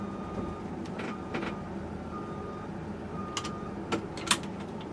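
A school bus reverses during a pre-trip inspection, its backup alarm giving a few faint, spaced beeps over a steady low idle hum in the background.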